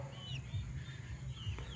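A Black Australorp cross Rhode Island Red hen clucks softly and repeatedly at close range, with faint chirping birds in the background.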